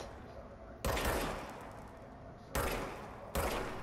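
Three loud gunshots from a service weapon in the video game Control, each a sharp blast followed by a long decaying tail, spaced unevenly across the moment.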